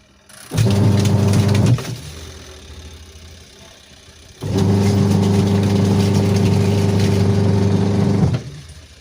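A Sharp twin-tub washing machine's wash tub motor runs in two bursts, a loud steady low hum starting abruptly, stopping, then restarting for a longer spell before cutting off, with quieter gaps between.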